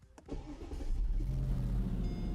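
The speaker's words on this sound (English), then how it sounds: "This does have one thing not all Mercedes have, and that's the growl. Starting, it's a treat too." A 2006 Mercedes-Benz SLR McLaren engine starts with a sharp click and a brief cranking whir, then catches into a deep, loud, close idle growl that holds steady to the end.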